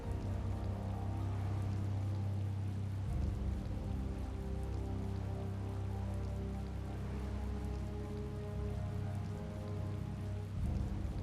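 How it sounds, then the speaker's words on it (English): Steady rain falls throughout in the Tales of Vesperia video game on PS4, a dense continuous patter on surfaces with a low rumbling bed, no voices. "It's raining after all."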